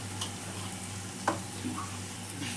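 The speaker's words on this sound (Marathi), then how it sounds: "या मसाल्यांना चांगलं असं हलवून घेऊ." Ground turmeric, red chilli masala, coriander powder and hot spice mix being stirred and roasted in a pan for a chickpea and potato vegetable dish, with a soft steady sizzle and an occasional sharp scrape of the spoon.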